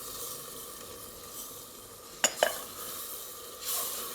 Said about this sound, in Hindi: अच्छी तरह से मिक्स कर लें इसे।